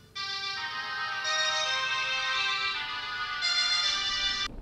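A phone ringing with a bright electronic ringtone, a loud, steady melodic pattern of tones shifting in pitch for several seconds before stopping abruptly, no voices.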